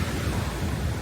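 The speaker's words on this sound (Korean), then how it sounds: "오늘은 진짜 파도가 세네요" Strong ocean waves break at a beach on Phu Quoc's west coast, a steady loud wash of surf with wind across the microphone and no talk.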